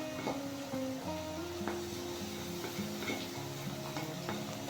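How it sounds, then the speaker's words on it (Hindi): Ginger garlic paste fries in a pan for aloo qeema, a gentle sizzle under repeated spoon scrapes and light clinks as it is stirred. "अब 1 से 2 मिनट हम अदरक लहसुन को अच्छी तरह फ्राई कर लेंगे"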